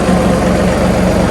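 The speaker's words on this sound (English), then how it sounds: "Turn off the tractor." A John Deere 2038R compact tractor with a 270B backhoe attachment idles steadily close by, a continuous low engine rumble with no talking over it.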